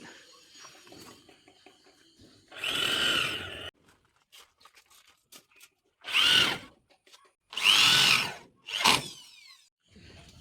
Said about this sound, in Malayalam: ഏകദേശം ഒരു ആറ് ഏഴ് ഇഞ്ച് ഗ്യാപ്പിൽ വെച്ചിട്ട് നമ്മൾ സ്ക്രൂ ചെയ്യുന്നുണ്ട്